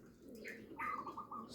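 Pigeon cooing, a racing pigeon being nursed back to health, gives soft low coos followed by a few brighter repeated call notes, close and fairly quiet with no talk.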